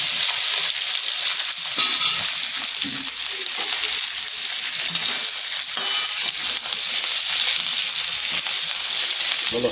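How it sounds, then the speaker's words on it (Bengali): Ivy gourd (kundri) frying in hot oil in a pan, a steady loud hiss and crackle throughout with occasional scraping of a spatula, no voices. "এই কুঁদরিটা আমি তেলের মধ্যে দিয়ে দিচ্ছি।"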